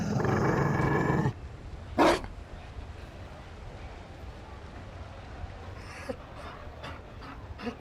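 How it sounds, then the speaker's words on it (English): A Mabari dog in the video game Dragon Age: Inquisition growls and pants in short close bursts, following a loud noisy stretch at the start, over a quiet game ambience. "You found a dog?"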